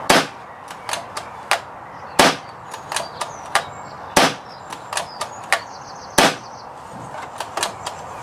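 An air rifle dry fires in a string of sharp, close clicks and snaps at irregular intervals, about twenty in all, some louder than others, with faint mechanical ticks between them and no speech.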